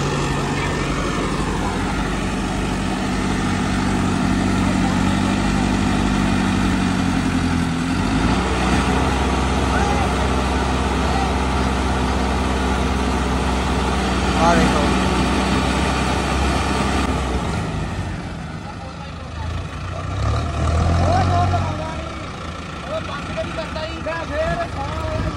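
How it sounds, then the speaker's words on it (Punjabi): A parked tractor's engine idles with a steady, low, throbbing rumble throughout, while someone talks over it. "ਆਹ ਟਰੈਕਟਰ ਖੜਾ"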